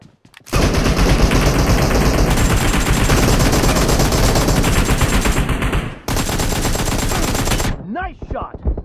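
Rapid automatic fire from an AKM rifle in PUBG Mobile, loud and close, in two long sustained bursts split by a brief pause, then a trailing clatter as firing stops.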